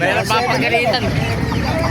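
Several chickens cluck and squawk nearby amid a busy, noisy crowd at a chicken market in Calumpit, Philippines, with overlapping chatter and background commotion.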